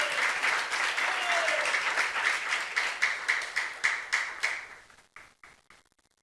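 Church congregation applauding during a youth service sermon, steady dense clapping that thins into separate fading claps before stopping.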